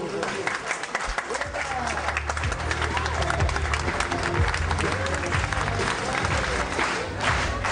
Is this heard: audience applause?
yes